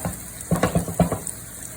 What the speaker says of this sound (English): So continue to saute those vegetables.